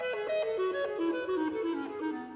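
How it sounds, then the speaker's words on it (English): A solo clarinet plays a flowing line of short melodic notes in a lilting 6/8 rhythm from Holst's The Planets, clear and moderately soft with no voices over it. "Here's a clarinet playing in 6/8 time."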